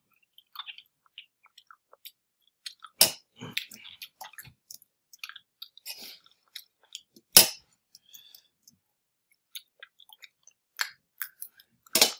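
Close, crisp crunching and chewing of food with crunchy skin, a steady run of small bites and mouth clicks punctuated by a few sharp, loud crunches, with no talking.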